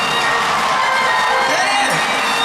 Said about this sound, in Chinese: 尖叫声最后一次给我